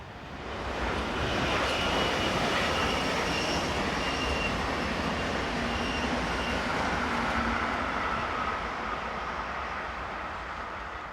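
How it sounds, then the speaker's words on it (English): A Swiss Re 460 electric locomotive hauls a passenger train in from Basel, a steady broadband rumble and rush of wheels on rail that swells and holds loud throughout, with faint high squeal tones above. "(460-020) was next to appear on the 947 service from Basel"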